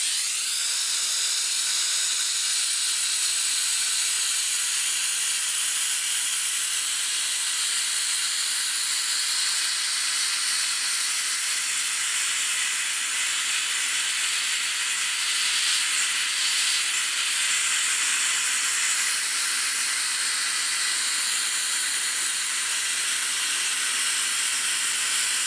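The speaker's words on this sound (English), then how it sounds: "now I'll do the other side with the steam." A handheld steamer jets a loud, unbroken hiss of steam across a vinyl record being cleaned, holding steady and close for the whole stretch with no talk over it.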